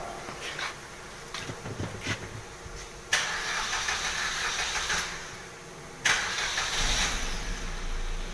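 A car engine cranks and tries to start after the battery's negative terminal is reconnected, with short bursts of cranking noise and hiss at a workshop, heard alone with no talking.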